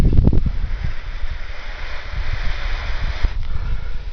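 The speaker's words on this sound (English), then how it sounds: "the wind is going the other way" Wind gusting outdoors during a friction fire-making session, a steady broad rushing and buffeting against the microphone, with a few louder gusts near the start.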